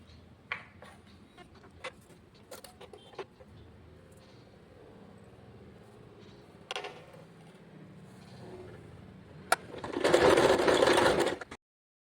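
A sewing machine runs in a short loud burst while stitching a blouse seam, after several seconds of quiet handling clicks and taps.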